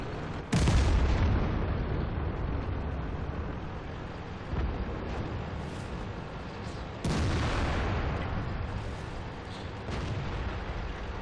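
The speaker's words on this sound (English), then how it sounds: "Obviously, everyone's going to take shots at this tank." Tank cannon fire from an IS-4 heavy tank in World of Tanks on the Redshire map: two heavy booming shots a few seconds apart, each with a long rumbling decay, loud and close over continuous engine and wind noise.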